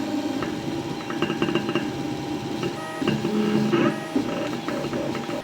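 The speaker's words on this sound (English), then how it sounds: "You'll be able to hear the click clack of the movement there." TwoTrees Sapphire 3D printer moving while printing, giving quick, irregular mechanical clicks and clacks over a steady motor whir, close and fairly loud.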